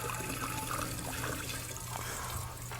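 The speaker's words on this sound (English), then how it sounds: "So we just pour that in like so." Water is poured into a home-brewing vessel, a steady close splashing stream lasting a few seconds without talk.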